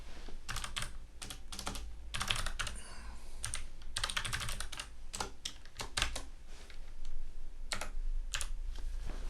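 Computer keyboard clattering steadily as code is typed for a React on Rails sign-up component, close and fairly quiet, with bursts of rapid keystrokes separated by brief pauses and no talking.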